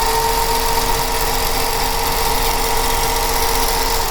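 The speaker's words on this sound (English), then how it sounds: "And sewing on both sides of that line." A sewing machine runs steadily for about four seconds, stitching along both sides of a diagonal line drawn across 5-inch quilt block squares. It makes a continuous, fairly loud mechanical whir with no talking.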